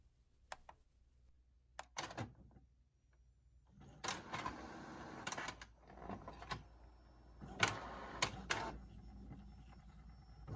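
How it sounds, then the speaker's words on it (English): A sublimation inkjet printer works in bursts: mechanical clicks and ticks, then whirring carriage passes back and forth, fairly quiet and close, with no talking. "So now we'll go to the printer and we will start the printing."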